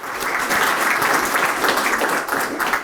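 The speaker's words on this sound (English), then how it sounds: "Let's have a round of applause for the Air Force's newest promotees." Loud, dense audience applause for newly promoted Air Force members at a promotion ceremony on Lajes Field, a steady roar of many hands clapping together.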